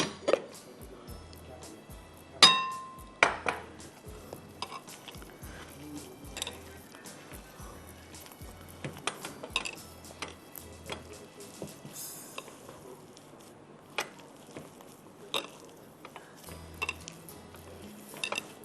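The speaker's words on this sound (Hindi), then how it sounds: "अब इसको मुझे बहुत अच्छी तरह से मिक्स करना है।" A mashed potato filling is mixed by hand in a bowl. There is soft squishing and scraping with scattered clinks of utensil against dish. The sounds are close and irregular, and there is no speech.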